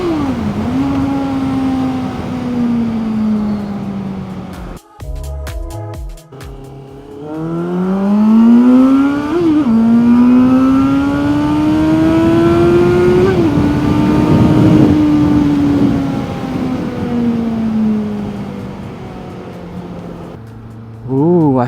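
A Benda LFC700 motorcycle engine revs up and pulls hard through rising gear pitches, loud and close, with a brief break of sharp shifting noise before a long climbing acceleration that fades near the end.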